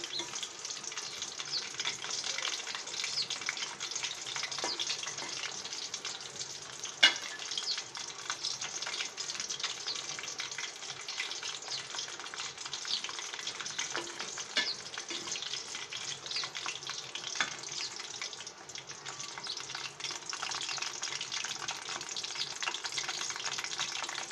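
Steady, even sizzling of raw banana chips frying in hot oil continues throughout, with an occasional soft clink and no talking.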